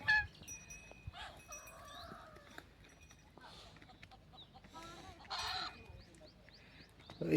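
Several ducks honk and cluck at close range in short, scattered calls, with a louder squawking burst near the end and faint voices in the background.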